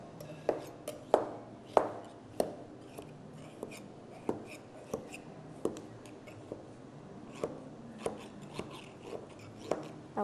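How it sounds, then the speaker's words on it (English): A knife runs along the edges of a raw jumble berry cake in its pan, making a series of soft, irregular scraping clicks and taps, close and quiet, with no talking. "now I'm going to just run a knife along the edges"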